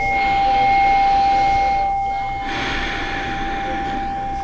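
A singing bowl rings with steady sustained pure tones that hum continuously at moderate volume, accompanied by soft breathing-like rushes of air.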